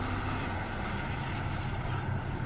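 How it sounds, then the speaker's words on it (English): A crawler tractor's diesel engine idles in a steady low rumble, a constant droning hum with no pauses or speech. "Idle the engine for approximately 5 minutes prior to shutdown."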